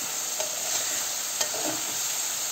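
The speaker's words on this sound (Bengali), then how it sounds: "নাড়াচাড়া করছি। নাড়াচাড়া করতেই আছি।" Desi chicken curry being stirred in a hot pan, a continuous close sizzle with a couple of sharp scraping strokes from the spoon against the pan.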